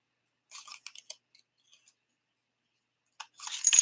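Scissors cutting around a paper stamped image, a few quiet, close snips and crisp paper rustles in short bursts separated by silence.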